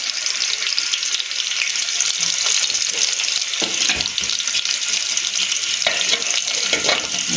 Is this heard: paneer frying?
yes